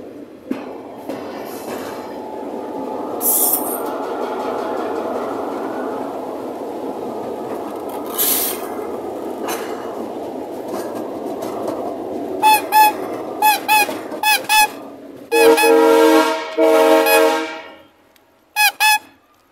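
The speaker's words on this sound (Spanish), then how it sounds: "Bueno, pues aquí está el granolero pasando." A grain freight train rolls past during shunting moves, a long steady rumble of wagons followed by sharp repeated wheel squeals and screeches near the end; no voices.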